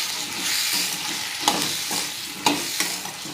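Potato and pea dry bhaji being stirred in a pan after salt and turmeric go in: steady scraping and shuffling with soft sizzling underneath, plus a few sharper clinks of the spoon against the pan.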